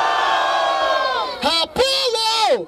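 Crowd at a Batalha da Aldeia freestyle rap battle in Barueri, SP shouts and cheers in loud sustained bursts, rising and breaking off in several swells.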